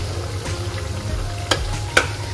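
Cream cooking down into ghee in a hot kadhai with the flame switched off, giving a steady low bubbling sizzle with a couple of sharper pops, close and alone.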